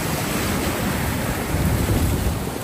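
Ocean water surges and washes steadily near Sydney as a yellow-bellied sea snake is released, a continuous broadband rush of surf with some wind buffeting the microphone.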